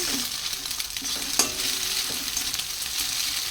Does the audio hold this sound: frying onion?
yes